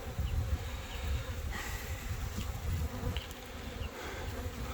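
Honeybees buzzing in an opened beehive on a drizzly day, a dense continuous hum filling the scene, close and steady, with faint scattered ticks.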